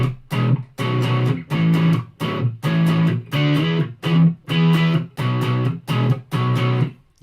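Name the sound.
electric guitar played on neck pickup, no effects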